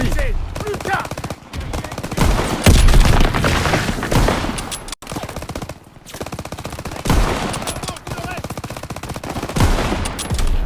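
Sustained machine gun fire in the World War II shooter Call of Duty WWII, loud and dense, with rapid overlapping bursts and a brief break midway.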